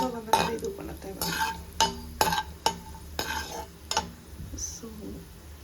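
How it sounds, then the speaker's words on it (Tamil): Raisins fry in a pan for paal payasam, with repeated sharp scrapes and clinks of a spoon stirring against the metal over a soft sizzle, roughly one stroke per half second. "ஸோ திராட்சை இது குண்டாகி வர வரைக்கும் நம்ம வறுத்து"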